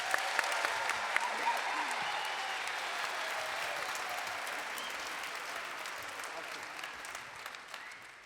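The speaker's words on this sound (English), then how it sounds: "Let's give them one more round of applause." An audience applauds at the Royal Albert Hall: a large hall full of steady, rolling clapping that stays even and fairly distant, with a few sharper claps standing out and a slight fade toward the end.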